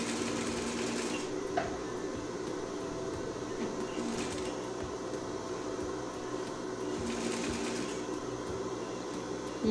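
A sewing machine stitches a seam on reborn baby doll clothes, running as a steady, fairly faint mechanical hum with rapid needle ticking throughout and brief shifts in intensity.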